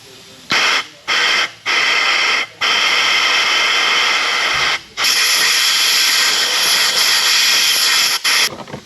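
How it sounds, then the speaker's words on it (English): Compressed air blasts through the corroded thermostat housing of a Yamaha 15 outboard motor. Three short, loud hissing bursts come first, then two long sustained blasts and a final brief puff. "so I'm going to blow some air through it"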